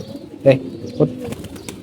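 Thirsty pigeons gathered at water, two loud close coos followed by fainter murmurs and light clicks, with a person talking nearby.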